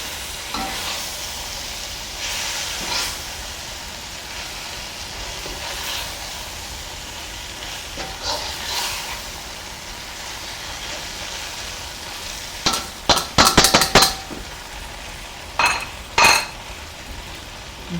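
Beef and broccoli being stirred in a hot pan, a steady low sizzle running throughout with occasional scrapes and a quick cluster of sharp utensil clinks against the pan near the end.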